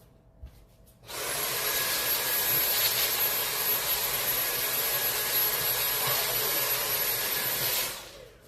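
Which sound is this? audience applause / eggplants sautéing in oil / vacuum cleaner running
vacuum cleaner running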